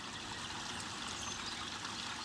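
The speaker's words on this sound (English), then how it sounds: "my water feature was finished." Water trickles steadily from a finished garden water feature, a continuous close splashing dribble with no voices over it.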